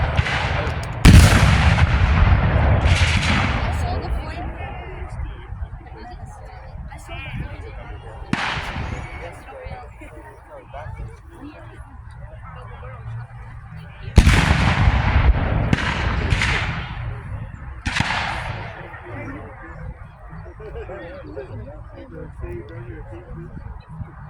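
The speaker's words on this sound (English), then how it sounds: "now it's like a race to load from their cannon first" Cannon fire at a Civil War battle reenactment in Old Bedford Village: several loud, booming blasts spaced seconds apart, some echoing in pairs, with people talking between the shots.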